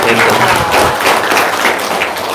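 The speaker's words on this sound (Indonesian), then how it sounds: "Tepuk tangan." Applause from a live audience at an Indonesian testimonial gathering, a steady dense patter of clapping that continues throughout while a voice talks over it.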